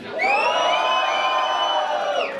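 Crowd at a rap battle in Londrina cheering for Flavin's rhymes, a loud sustained roar of shouting and whooping voices from start to finish.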